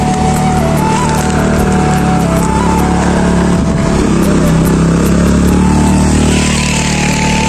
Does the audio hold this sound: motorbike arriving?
yes